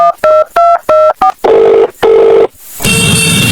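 A phone call is dialled with a rapid series of loud, close keypad tones, about six short beeps in quick succession. Two longer steady tones follow, then a ringing tone begins.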